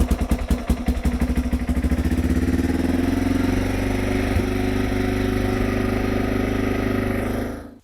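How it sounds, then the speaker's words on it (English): A Yamaha TTR230 motorbike cranks with rapid pulsing strokes, fires up, and runs at a steady close idle for several seconds before cutting off abruptly. "Now with the ignition back on, the bike should start."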